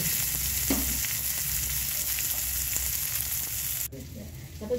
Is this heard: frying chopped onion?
yes